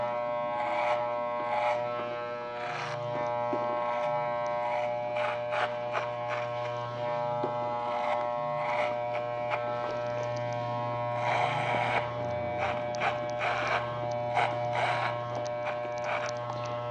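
An electric hair clipper with a guard comb buzzes steadily through a men's social-style haircut, a close, continuous hum with brief changes in pitch as it moves through the hair.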